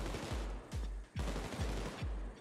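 Light machine gun fire in Payday 2, a rapid, loud automatic burst of closely spaced shots with short pauses between strings, no talking over it.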